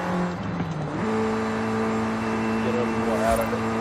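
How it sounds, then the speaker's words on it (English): A Mini John Cooper Works GP engine screams at over 200 mph in a racing game played on a Logitech G920 wheel. It holds a steady, high, droning note, with a downshift shortly after the start. "We're running over 200 miles per hour in a Mini Cooper"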